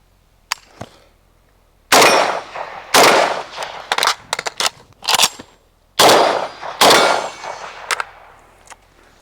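Rifle gunshots from a shooting drill ring out as sharp, loud cracks in two clustered volleys with gaps between them, mixed with metallic clangs from steel gong targets.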